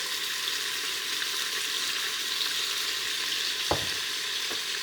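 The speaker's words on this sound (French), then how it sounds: "vous avez mis votre viande à colorer, vous la touchez plus pendant au moins 2 minutes, histoire qu'elle grille bien" Beef sears in a hot pan for carbonade flamande, giving a steady, soft, even sizzle with a brief clink or tap partway through and no talking.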